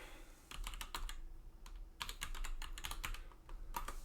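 Quick, irregular keystrokes clatter on a computer keyboard, close and fairly quiet, with short pauses between bursts of typing.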